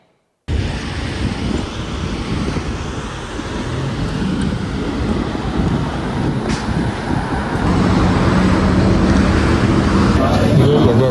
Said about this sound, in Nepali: ट्रेन चाहिँ आयो, अब म चढ्छु।